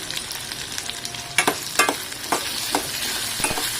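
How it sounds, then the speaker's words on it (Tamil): Chopped tomato frying in a pan as it is sautéed with a little salt, continuous sizzling broken by sharp clinks and scrapes of stirring. "ஒரு தக்காளி எடுத்து போட்டு அந்த தக்காளியை நல்லா வதக்கிக்கோங்க."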